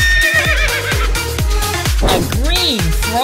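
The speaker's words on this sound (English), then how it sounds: "A blue horse." A horse neighs and whinnies in a loud, close, quavering call with rising and falling pitch, accompanied by rhythmic clip-clop beats.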